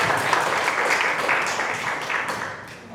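A church congregation at a Thursday prayer meeting claps in steady, dense applause that gradually thins toward the end, heard from within the room.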